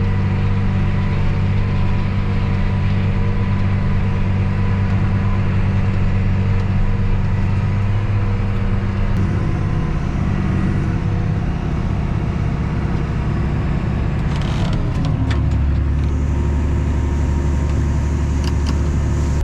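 Tractor engine running alongside a harvesting combine, a loud steady drone that shifts pitch as it speeds up partway through, continuous and close with no talk.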